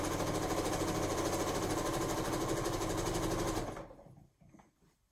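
A sewing machine runs steadily and loudly while stitching down quilt binding, a dense continuous whir that cuts off near the end and trails into quiet.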